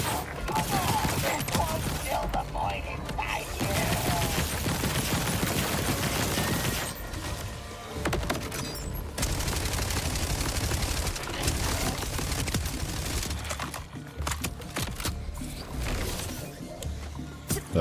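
Rapid bursts of gunfire from a Borderlands 4 shootout, dense and continuous with brief pauses, loud throughout and mixed with game effects and a talking voice.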